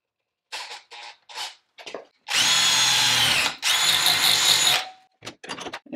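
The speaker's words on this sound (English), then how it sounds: "So I'm just gonna drill it a 32nd oversize." A power drill bores holes in a steel license plate bracket for a Bronco's modular bumper, sounding in two sustained, close whining bursts, separated by a short pause and surrounded by several brief trigger taps.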